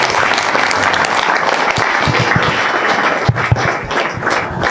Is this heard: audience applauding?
yes